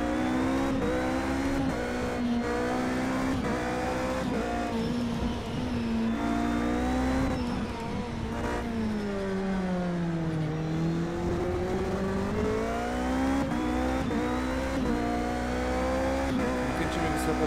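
In the Project Cars 2 video game, a high-revving racing car engine roars steadily and close, its whine sweeping down and back up through gear changes and throttle lifts.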